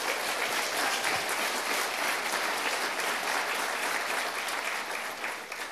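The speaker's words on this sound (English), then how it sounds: "Let's give NYU a round of applause." A full room of people applauding at a morning event at NYU, dense continuous clapping that holds steady and loud for several seconds before tapering slightly at the end.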